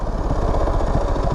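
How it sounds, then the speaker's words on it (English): A Kawasaki KFX 450R ATV engine revving hard on the throttle, a loud, close, continuous throaty roar with a rough pulsing texture and no talking over it. "And she comes alive as soon as you touch the gas."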